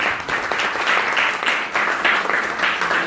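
A room of listeners at a Sunday talk gathering in a Hindu temple hall claps warmly for a welcomed guest, a short, steady burst of applause filling the space.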